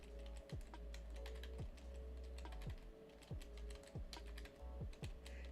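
Code is being typed on a computer keyboard in quick, uneven bursts of close, crisp key clicks with short pauses between runs, against a low steady background hum and no talking.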